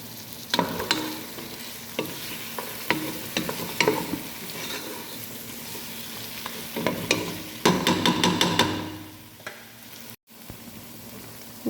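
Chicken sizzles in a pan with dry black lemon, bay leaves and cardamom while a utensil scrapes and stirs in quick irregular strokes, ending with a burst of rapid clatter, close and fairly quiet.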